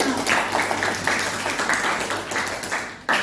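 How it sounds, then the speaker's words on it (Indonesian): A classroom of students and teacher clapping together in applause after a lesson, a dense, fairly loud patter of many hands that continues steadily before dropping off near the end, with some voices mixed in. "Tepuk tangan untuk kita semua."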